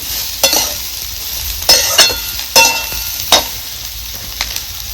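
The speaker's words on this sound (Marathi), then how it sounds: "सगळा मसाला ना आपल्याला ह्या तोंडल्याला लागला पाहिजे असा परतून घ्यायचा." Ivy gourd sautéing with spice masala in a pan: a steady frying sizzle broken by several sharp scrapes of stirring at irregular intervals, close by, with no talking.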